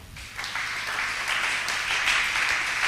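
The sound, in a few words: congregation applauding the Lord in church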